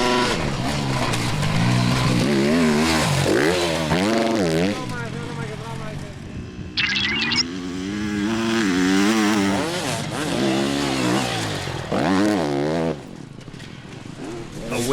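Enduro motorcycles race at the Enduro Grand Prix in Greece, their engines revving and rising in repeated loud climbs and drops as they pass close by, under a commentator's voice.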